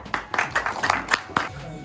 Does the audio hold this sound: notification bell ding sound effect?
no